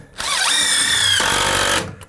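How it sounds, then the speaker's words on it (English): A power drill whines steadily while driving screws into the roof blocking of a backyard shed under construction, one continuous close burst of nearly two seconds with a brief pitch dip near the start and no talk. "But for now, we'll just throw a few screws in place and then get some measurements."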